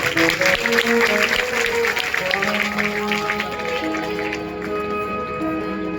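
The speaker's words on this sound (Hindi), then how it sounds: "ताली से स्वागत कर" Guests at a school event are welcomed by a crowd clapping steadily, a loud dense patter that holds for several seconds before easing off slightly toward the end.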